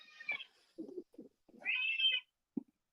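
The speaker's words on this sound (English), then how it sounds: "Oh, there's a cat." A cat meows several times nearby, with short rising calls, a longer drawn-out meow and a brief chirp, in an otherwise quiet room.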